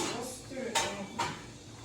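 Cornmeal porridge being stirred in a pot for Jamaican cooking, with a utensil scraping and clinking against the metal pot, two sharper knocks standing out over steady background noise.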